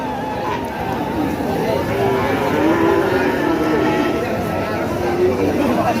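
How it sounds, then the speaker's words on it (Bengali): Calves and cows at a rain-soaked rural cattle market low and moo in drawn-out calls amid a steady murmur of crowd chatter and rain, with voices talking close by. "আমরা আমাদের সামনে ছোট গরু লক্ষ্য করছি, বাছুর গরু।"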